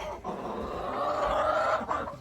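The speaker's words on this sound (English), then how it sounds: "One of our other hens, Cinnamon." Backyard hens clucking near a chicken coop, a continuous close murmur of low throaty clucks lasting a couple of seconds with no talking.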